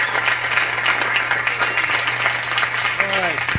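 A comedy audience claps for a comedian, a dense, steady burst of applause lasting a few seconds before it cuts off, with a voice briefly rising over it at the end.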